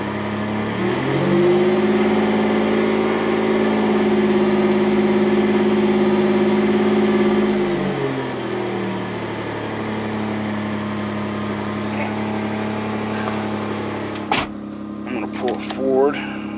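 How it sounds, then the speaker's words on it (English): A 3rd-gen Toyota 4Runner engine with a newly installed performance chip revs up and holds a steady raised drone for several seconds, then drops back to idle, heard close by with a brief clunk near the end. "Give it a little gas and see what we got."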